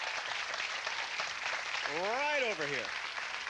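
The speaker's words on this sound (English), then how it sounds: "Let's give them all a round of applause." Studio audience applause: a steady wash of many hands clapping throughout, with a voice speaking over it partway through.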